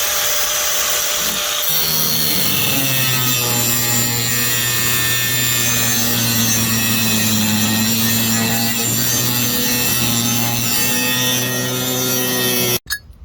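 A power tool cuts the wings off a kicker motor mounting bracket during a Mercury 9.9 EFI kicker install on a Tracker Pro Guide V-175 boat. A steady, close, droning whine runs for about twelve seconds, then cuts off abruptly.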